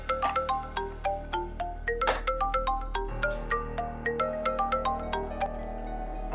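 A phone ringtone plays as a repeating melodic phrase of bright tones over a low steady hum, insistent and moderately loud, signaling a friend calling again and again.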